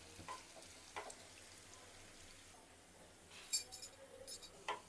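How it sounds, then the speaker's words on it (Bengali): Onion, garlic and dried chillies tempering in hot oil in a frying pan for a fish-head black gram dal: a steady low sizzle with a few sharp clinks of a spoon against the pan. "এখন ভাগাত দিয়ে দিব, সাথে কয়টা শুকনো মরিচ।"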